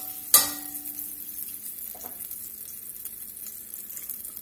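Two tablespoons of butter melt and sizzle in a soup pot, a soft steady frying hiss following one sharp clink near the start, with a faint scrape a moment later.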